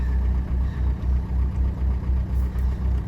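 A 2011 Nissan Qashqai 1.5 dCi diesel engine idling steadily with an even, pulsing low throb and stable revs, close and constant throughout.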